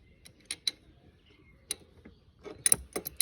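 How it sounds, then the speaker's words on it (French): Clicks and ratcheting ticks come from a spark plug being tightened on a Rieju MRT motorbike, sparse metallic snaps in uneven bursts with quiet gaps between them, close by. "Surtout la bougie, les mecs, la serrez pas à fond."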